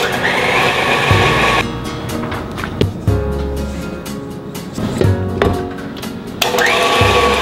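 Gooey butter cake batter mixed in a bowl with an electric mixer, a steady whirring motor that starts and stops several times, heard close and loud with no talk over it.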